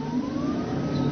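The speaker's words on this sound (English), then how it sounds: "the motor sounds like a little sports car." Electric car motor running while the car is driven, a steady whirring hum with a slowly rising whine, continuous and fairly close, no voices.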